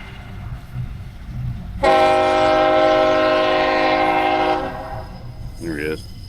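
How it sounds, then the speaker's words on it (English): A freight train's horn blasts loudly and steadily for several seconds over rumbling rail noise, then cuts off as the cargo train keeps passing, in Hamlet, North Carolina. "Had to get a shot of the train going by. There it is. Cargo train."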